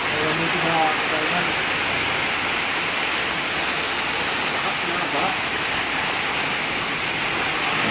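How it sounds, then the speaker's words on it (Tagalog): Heavy rain pours steadily, a dense, loud hiss of falling water that continues without a break throughout. "Lakas ng ulan ngayon, guys."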